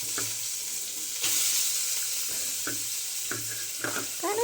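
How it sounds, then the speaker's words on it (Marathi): Onion frying in a wok, a steady broadband sizzle with occasional stirring scrapes and clinks over the hiss, close and moderately loud, with no speech. "कांदा टाकूया."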